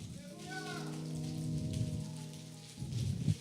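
Church congregation tapping fingers against their palms to imitate rain, a dense, steady patter like rainfall filling the room, with a sustained voice or tone running over it and a louder burst near the end.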